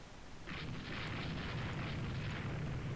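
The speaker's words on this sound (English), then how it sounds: "Launch torpedoes." A torpedo launch in the naval strategy game Rule the Waves 2: a steady hissing, rushing surge starts about half a second in and holds, with a low rumble underneath and no voices.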